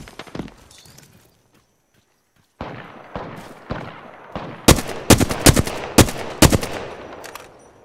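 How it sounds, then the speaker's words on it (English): Rapid bursts of gunfire in the Apex Legends battle royale game, a quiet gap followed by sharp, loud cracks that build into clustered volleys, close and alone with no talking. "Shooting at me!"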